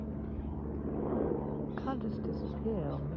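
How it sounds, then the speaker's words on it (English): A helicopter passes at a distance over a quiet morning setting with birds, a steady low rotor drone under a person speaking. "Don't know what sort of helicopter it is."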